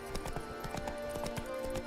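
Roach the horse gallops in The Witcher 3: Blood and Wine, hooves clip-clopping in a quick, steady rhythm throughout, close and clear over a faint tonal game background.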